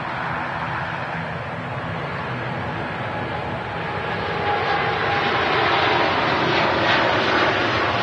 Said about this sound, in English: Here we go, to a Dreamliner on the takeoff rope.